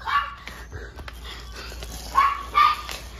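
A dog barks a few times in short bursts, close by, with quiet gaps and faint background noise between the barks.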